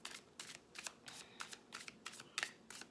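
Tarot cards shuffled in quick repeated riffles, about eight crisp bursts in three seconds, close and fairly quiet with no voice.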